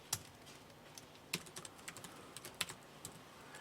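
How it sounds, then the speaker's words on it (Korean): Sparse, crisp keystrokes on a computer keyboard while entering a spreadsheet in Excel, a few isolated clicks and short bursts close to the mic in a quiet room. "우선 저는 바로 타이핑 치겠습니다."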